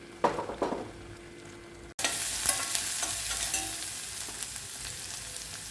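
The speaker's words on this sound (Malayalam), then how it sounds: "ഒരു സവാള ഒരു കഷ്ണം ഇഞ്ചി കുറച്ച് വെളുത്തുള്ളി അരിഞ്ഞ് ചേർത്ത് നന്നായിട്ട് പഴുത്തിയെടുക്കാം" Sliced onion, ginger and garlic hit hot oil after a brief quiet stretch of handling noises, erupting into a loud, close sizzle that settles into a steady crackle.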